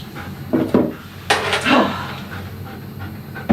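A dog pants heavily in a bathtub during grooming, close and loud, with a few clinks and knocks from the tub and tools around it.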